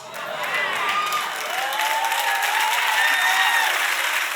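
A church congregation claps and applauds loudly and steadily throughout, with scattered cheers and whoops rising out of the crowd.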